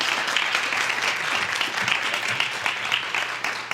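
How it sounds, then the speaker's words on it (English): A school board meeting audience claps for a student honoree, a steady, moderately loud patter of many hands with no talking over it. "Let's give him a round of applause."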